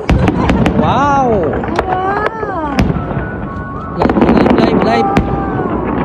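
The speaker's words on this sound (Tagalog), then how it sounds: "Ayan, fireworks mga kabayan." Repeated crackling bursts and whistling shells from Christmas fireworks in Greenland, loud and close, with excited voices calling out between the bangs.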